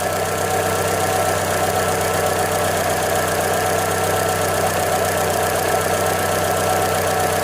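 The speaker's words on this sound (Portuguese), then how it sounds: "para tentar mostrar para vocês aí essa falha aí que está acontecendo aí nesse cilindro" A Chevrolet Classic 1.0 VHC-E engine idles with a cylinder misfire, giving a steady, loud mechanical hum with an uneven knocking pulse running throughout, close up and with no talk.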